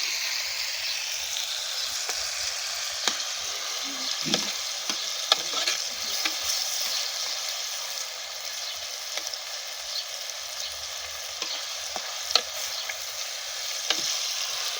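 Soft tomatoes simmering and frying in a pan for a Telugu curry, giving a steady close sizzle throughout with occasional scrapes and taps of a stirring spoon, no voices.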